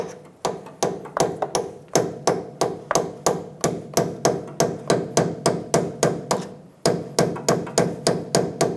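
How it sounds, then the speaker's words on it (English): A small chisel struck repeatedly with a hammer to spread open the steering shaft fitting on the rack of a 2005-2015 Toyota Tacoma, a steady run of about thirty sharp, loud metallic blows, close up, with one brief pause. "Using a small chisel, we're going to open up the fitting going onto the rack for the steering shaft"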